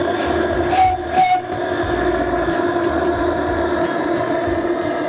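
A steam-powered motorcycle's whistle sounds in loud, steady tonal blasts over a constant hiss of steam, with a brief interruption early on.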